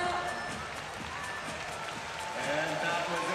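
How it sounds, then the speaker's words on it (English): An arena audience at a men's bouldering semi-final in Bern applauds and cheers in a continuous, dense roar that swells toward the end, with a commentator talking over it. "A big round of applause"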